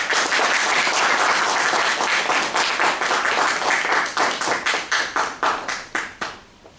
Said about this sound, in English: I'd like to give a big round of applause for Neeti Jain